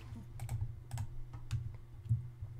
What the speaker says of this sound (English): Now, I'm just using my up and down keys there